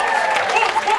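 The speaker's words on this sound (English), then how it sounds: "Big round of applause." Applause from an enterprise festival audience after a speaker is introduced, a steady dense clatter of many hands clapping close by, with no pause.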